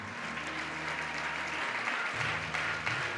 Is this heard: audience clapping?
yes